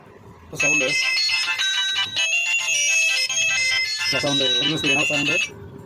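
A Lava A1 phone with a newly replaced loudspeaker plays its ringtone loudly and close, a bright melodic tune in repeated phrases, with a short pause midway.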